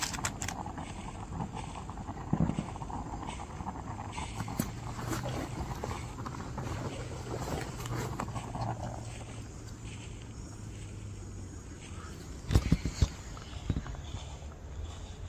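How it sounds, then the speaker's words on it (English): Footsteps of someone walking around outdoors near a campsite: a steady series of soft, faint crunching steps that continue throughout, with a brief cluster of louder, closer thumps near the end and no talking. "it sounds like someone's just walking around"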